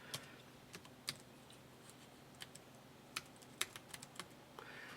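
Keys tapped on a computer keyboard while a name is entered into a word processor, a quiet, irregular patter of close, light clicks with a few sharper strokes standing out.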